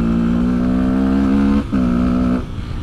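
A Fantic 125 motorcycle engine holds a steady, buzzing rev close up, dips briefly, then revs again before easing off.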